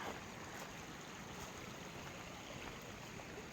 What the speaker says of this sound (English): we'll get to walk next to this beautiful stream